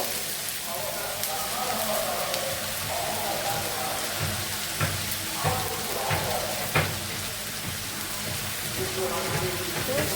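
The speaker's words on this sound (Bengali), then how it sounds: "আমি দিয়ে দিচ্ছি আদা রসুন বাটা একটু ভেজে নিব" Ginger garlic paste frying in a pan crackles and hisses steadily, a dense sizzle like rain with a few sharp pops and clinks, while a person speaks over it.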